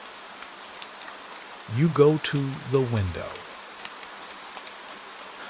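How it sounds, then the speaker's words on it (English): Gentle nighttime rain over a canal in Venice makes a steady, soft, even hiss throughout, with a calm voice speaking over it in the middle. "Rain touches it with countless small rings."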